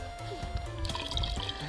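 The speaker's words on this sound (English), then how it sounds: "Put some vinegar in there." Vinegar is poured into a mixture for a snow volcano experiment, a short, close trickle of liquid with light splashing and dripping.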